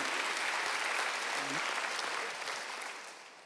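A church congregation at a Sunday worship service bursts into dense, sustained applause that fills the space and then slowly fades.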